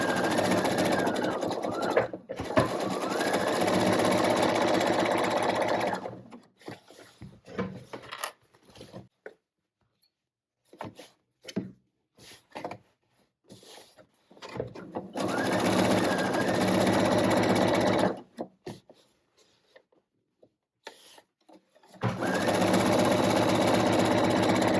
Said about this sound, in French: Si vous avez une recouvreuse, vous pouvez faire ce passage avec la recouvreuse sur l'endroit